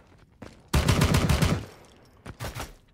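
Bots fire back in the War Gun video game: a quick rattling burst of automatic gunfire lasting under a second, then a few fainter scattered shots follow.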